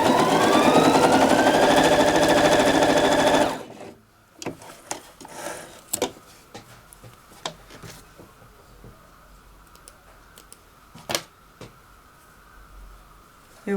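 A sewing machine stitching a fabric panel gives a continuous buzzing whir for about three seconds, then stops, followed by scattered light rubbing and handling noises of the fabric.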